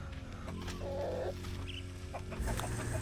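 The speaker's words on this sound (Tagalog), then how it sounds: "At ito nga yung mga breeder natin ng manok." Native chickens and breeder hens cluck softly in a farmyard, a few short calls rising over a steady low background hum.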